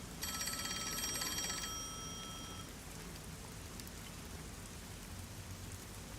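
A telephone rings in a detective video game, a bright repeating electronic trill heard briefly at the start over a steady rain-like hiss that continues throughout.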